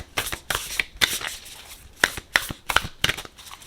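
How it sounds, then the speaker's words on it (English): Oracle cards are shuffled by hand in quick, crisp riffling bursts, about eight papery flutters in a row, close and clear with no talking. "Let's go ahead and shuffle."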